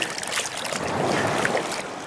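Small waves wash continuously onto a Lake Superior beach during gold panning, a close, steady broadband swish and rush of water with no pauses.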